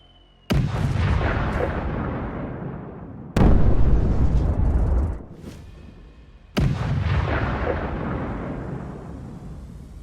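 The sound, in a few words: explosions from F-16 precision bombs striking Russian fortifications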